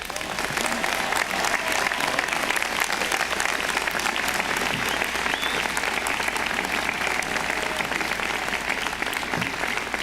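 Commencement audience at Stanford breaking into sustained, dense applause welcoming the speaker, a large crowd clapping loudly and evenly throughout with no pauses.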